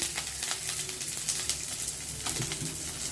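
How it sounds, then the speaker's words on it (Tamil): Mustard seeds crackling in hot oil with cumin, urad dal, onion, green chilli and boiled peanuts for white sorghum upma, a dense continuous sizzle dotted with quick sharp pops. "கடுகு வெடிக்க ஆரம்பிச்சிருச்சு"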